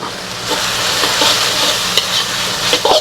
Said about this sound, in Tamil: இப்போ அந்த மஞ்சத்தூள் போட்டுடலாம்